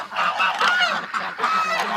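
Ducks honk in a dense, steady chorus of overlapping nasal calls, loud and close, without any pause across two seconds.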